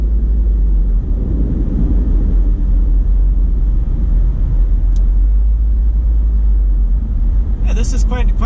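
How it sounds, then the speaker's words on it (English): A car cruises along the I-376 West freeway and through a tunnel, a loud constant low road rumble and engine drone, with a brief clatter near the end. "this will be the first of two tunnels we'll be driving through in this video."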